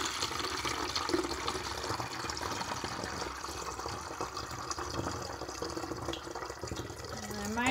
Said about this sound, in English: add your funnel, and you are going to fill the container about